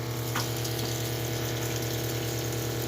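Water pump humming steadily in a home in Alaska, pushing water through a filter; a constant, close mechanical drone with flowing water, no voices.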